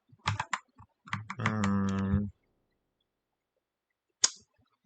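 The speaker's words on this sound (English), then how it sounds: "I'm just pressing random keys now." Computer keyboard keys pressed at random: a quick scatter of close clicks, a sustained buzzing tone, then a pause and one final sharp tap.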